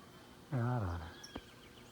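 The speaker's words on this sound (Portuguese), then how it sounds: "É a arara." A macaw in the wild gives one loud, harsh, close call that rises and falls, followed by a short sharp click, heard alone against quiet outdoor background.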